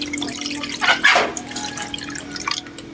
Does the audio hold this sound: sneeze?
no